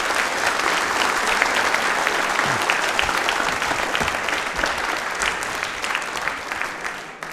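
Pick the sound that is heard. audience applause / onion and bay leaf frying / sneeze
audience applause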